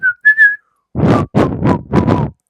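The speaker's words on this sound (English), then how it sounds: "I'm so bad at whistling." A few short, thin whistled notes, followed by breathy, airy bursts as someone struggles to whistle, close and loud.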